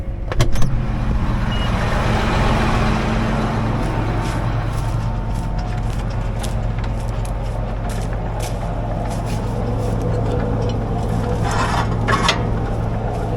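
An older tractor runs steadily at close range, its low engine drone constant while the fertilizer spreader's floor chain drive adds a rattling, scraping mechanical layer with occasional clanks, no talk over it.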